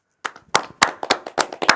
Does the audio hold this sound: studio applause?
yes